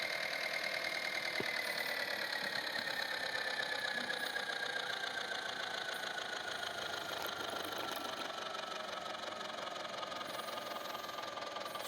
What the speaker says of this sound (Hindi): आज हमारे पास में है मेसी वाला मिनी ट्रैक्टर।